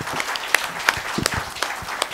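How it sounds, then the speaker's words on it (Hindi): Audience applause at a live talk event, sparse and fairly faint, with scattered individual claps over a quiet murmur rather than a full ovation. "जोरदार तालियों से आप दोनों का"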